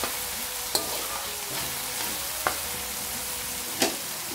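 Onions frying in a pan for mutton achari karahi, a steady low sizzle with a few sharp clinks of a spoon stirring against the pan at irregular intervals, no voices.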